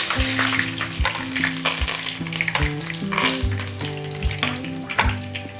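Sabudana khichdi tempering: spices sizzle and crackle in hot oil with a steady frying hiss, punctuated by regular clinks of a spoon or spatula against the pan.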